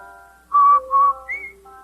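Someone whistles a short, bright tune of a few clear sustained notes with brief gaps, loud and close over a faint background of held tones.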